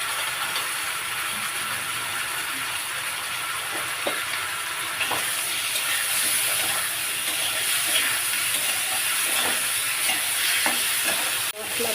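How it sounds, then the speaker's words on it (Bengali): Potatoes frying in a pan with salt, turmeric, chilli, cumin and soaked ginger paste, giving a steady close sizzle and hiss with occasional stirring scrapes, no voices. "মশলা ভালো করে আলুর সঙ্গে ভাজা হয়ে গেছে"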